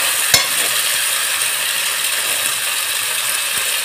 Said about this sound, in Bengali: এইভাবে ভালোভাবে মশলাটাকে কষিয়ে নেব